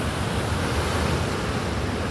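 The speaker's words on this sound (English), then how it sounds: "we can't imagine this from up top on how big the waves are" Ocean waves surge against rocks in a close, loud, continuous roaring wash of broadband noise that stays steady throughout.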